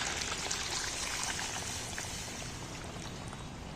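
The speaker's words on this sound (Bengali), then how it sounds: "এইবার আমি হালকা করে একটু হাত ছোঁয়া গরম জল একটু সাইড দিয়ে দিয়ে দেবো" Warm water is poured steadily into chicken curry in a pan, a soft continuous trickle and splash that fades slightly toward the end, with no talking.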